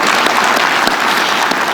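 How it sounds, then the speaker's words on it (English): Dense, loud applause fills the UN General Assembly Hall as a large summit audience claps together in an even, continuous roar. "Give yourself a round of applause."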